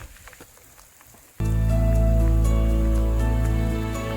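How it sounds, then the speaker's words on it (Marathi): Light pattering rain gives way after about a second to a sudden, loud, steady downpour drumming on a surface, on a trek at Kalavantin Durg fort in Maharashtra. "पाऊस पडू दे पावसाला सुरुवात झाली मित्रांनो"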